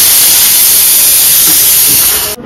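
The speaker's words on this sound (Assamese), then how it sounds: "আমাৰ ভাতটো হৈ গ'ল হুইচেল মাৰিলে চিটি এটা" A pressure cooker cooking rice lets out one long, loud, continuous steam whistle close by that cuts off abruptly at the end, with no speech.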